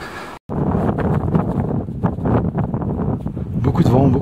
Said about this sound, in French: Beaucoup de vent, on prend beaucoup de poussière.